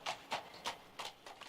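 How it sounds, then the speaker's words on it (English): Horse hooves clip-clopping on a radio drama, a steady rhythmic trot of about five distinct hoofbeats, fairly faint and distant, with no voices over it. "Suddenly in the distance I heard the sound of horses' hoofs."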